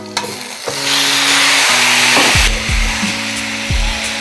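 Marinated chicken pieces drop into hot oil with fried onion, cumin and bay leaf, setting off a loud, steady sizzle that swells and persists, with a few clunks of a spoon stirring in the pan.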